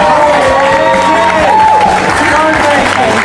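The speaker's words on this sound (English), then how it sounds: "I'd really like you all to give a big round of applause to Nikki." A studio crowd breaks into loud, sustained applause and cheering for Nikki, with steady clapping, whoops and mixed voices filling the room throughout.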